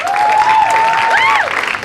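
An audience at a stand-up comedy show applauds in a steady wash of clapping, with a bright whistle rising and falling over it.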